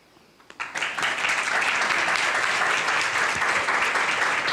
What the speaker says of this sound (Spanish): Un gran aplauso para los 4